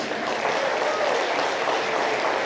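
A dense wash of audience applause rises from a crowd at a science fair presentation, steady and moderately loud throughout the short stretch, with no distinct individual claps standing out.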